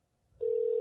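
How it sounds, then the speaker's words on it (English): A telephone ringback tone starts after a brief silence, a single steady electronic hum heard faintly while a call is placed. "It's ringing."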